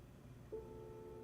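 A single steady electronic call-waiting beep sounds faintly on a quiet phone line, holding for about half a second.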